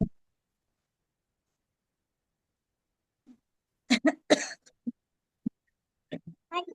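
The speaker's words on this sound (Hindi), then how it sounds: "आप खांसी आ रही है" A cluster of sharp, close coughs from a woman with a fever breaks the near silence, followed by a few more isolated coughs and throat sounds.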